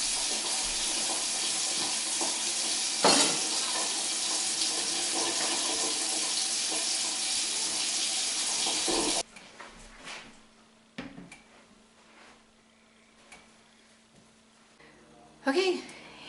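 Cold tap water pours steadily into a bowl for about nine seconds, a loud rushing flow that then stops, followed by quiet kitchen clatter and a brief bump.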